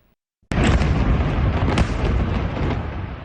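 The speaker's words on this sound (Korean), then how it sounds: "강한 폭발과 함께 거대한 연기와 잔해 구름이 순식간에 마을을 뒤덮습니다" A bomb blast from an Israeli airstrike on a village in Lebanon bursts in suddenly after brief silence, a loud sustained roar of explosion and debris rumbling on for several seconds.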